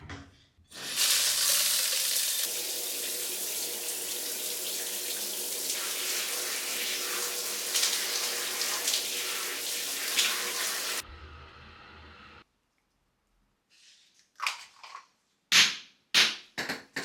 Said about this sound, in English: now for the real clip of me washing my hair